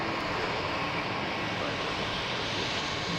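A Porter Dash 8 turboprop airliner takes off, a steady continuous engine roar at moderate distance with little change in level and no talk over it.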